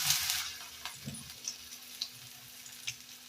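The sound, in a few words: oats and potato snack frying in oil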